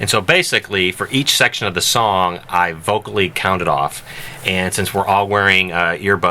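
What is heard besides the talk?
No everyday noise stands out behind the speech.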